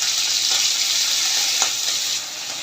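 Chopped onions fry in hot oil, giving a loud, close, steady hiss and sizzle with no talking.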